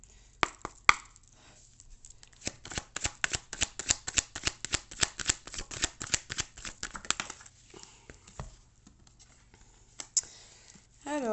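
Cards for a cartomancy oracle reading are shuffled close by in a quick run of crisp, rhythmic flicks and slaps, then slowing to a few scattered taps.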